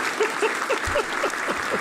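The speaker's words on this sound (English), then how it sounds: "We're going to give that one a round of applause." Brief audience applause during a live group show, a short burst of steady clapping with faint voices and laughter mixed in, moderately loud and close.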